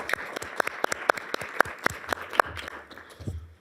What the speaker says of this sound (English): So big round of applause for all of our staff.